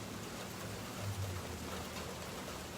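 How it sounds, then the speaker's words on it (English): Rain falls steadily in a soft, continuous wash of hiss, faint and even throughout with no voices. "Can you all hear the rain?"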